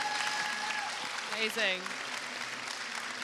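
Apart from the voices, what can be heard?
audience applause for the panel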